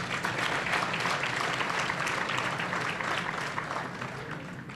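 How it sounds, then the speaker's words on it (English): An audience at a Pretoria government address applauds for BDS, dense sustained clapping from a sizeable crowd that holds steady and tapers slightly near the end. "let us give BDS a huge round of applause"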